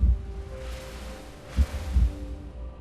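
Heartbeat sound effect with deep, thumping low beats: a strong thump at the start, then a pair of beats later, over a soft, steady hum.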